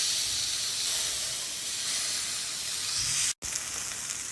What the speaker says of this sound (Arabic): لا ننسى الناحية الثانية كمان نحمرها شوية